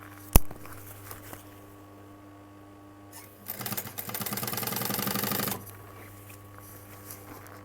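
Sewing machine running in one steady burst of about two seconds mid-clip while stitching a leather jacket, with quiet room hum and a single sharp knock before it.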